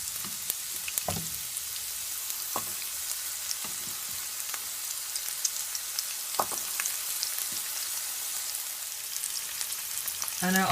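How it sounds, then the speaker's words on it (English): Onions, garlic and spring onions frying in hot oil in a pan, a steady bright sizzle with occasional louder crackles and stirring scrapes, close and continuous with no talking. "So now I'm gonna add my onions and garlic"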